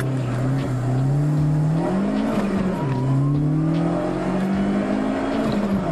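Fiat Uno Turbo with a 1.4 turbo engine accelerating hard, its engine note climbing and dipping through gear changes, loud and close for about six seconds with no talk.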